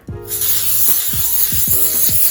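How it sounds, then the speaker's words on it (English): A continuous hissing spray from an aerosol can of adhesive spray, steady and close, with a few low thumps underneath. "I have my adhesive spray and I have my silver glitter"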